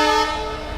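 Horn of the Shramjeevi Express sounding at Varanasi station, a loud sustained multi-tone blast held steady for the whole moment, alone with no talk over it.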